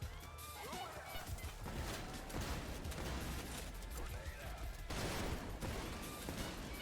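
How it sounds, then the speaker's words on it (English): Shotgun blasts in a video game: sharp, loud bangs amid other game noise, with someone talking over them. "there was a shotgun sound from my gun when the shotgun fired"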